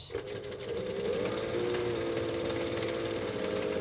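Sewing machine running steadily while top stitching folded fabric flat on a custom order, a continuous mid-pitched motor whir with no break, close and fairly loud.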